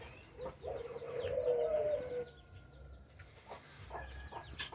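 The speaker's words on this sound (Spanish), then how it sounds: "el corral de mis palomas, de mis tórtolas." Collared doves and pigeons in an outdoor aviary coo softly, with one clearer cooing call rising in the middle and quieter bird sounds and faint background noise around it.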